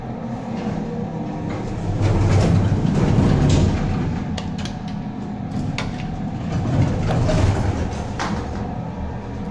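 A traction elevator motor in a shopping center in Holon gives a steady low mechanical hum and rumble throughout, rising and easing slightly, with faint clanks and rattles of the moving car.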